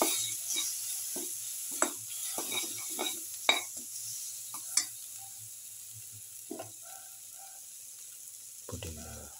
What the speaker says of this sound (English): saute and mix thoroughly